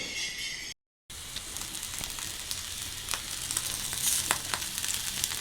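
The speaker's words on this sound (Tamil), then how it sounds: "ஸோ மாயினை நாங்கள் தோசைக்கல்லில் வச்சு பொறிக்கிறோம்" Fish frying in oil on a dosa griddle gives a steady, close sizzle with crackling pops that swell slightly toward the end, following a brief dropout near the start.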